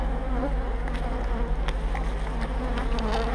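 Honeybees buzzing at an open hive during a spring inspection of brood frames, forming a dense, steady close-up drone with no talk.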